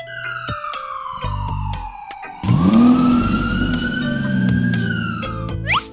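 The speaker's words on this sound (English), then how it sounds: "Call ambulance." A cartoon ambulance siren wails loud and close, one long sweeping tone falling then rising, with a low engine-like rumble joining halfway through.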